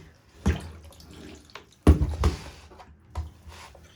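Water splashes and drips from soaking-wet clothes squeezed by hand before using a hand-crank laundry wringer, coming in three close, loud bursts of sloshing and trickling with quieter dripping between.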